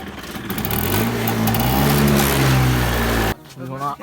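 A scooter engine running with its silencer removed gives a loud, steady, raw buzzing drone with slight shifts in pitch, then cuts off abruptly near the end, leaving faint background noise and a brief voice.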